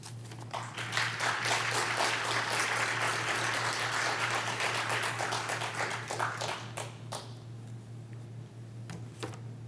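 Church congregation in Southern California applauding to welcome a visiting pastor to the pulpit, a dense wash of clapping that thins out after about six seconds into scattered claps over a steady low hum.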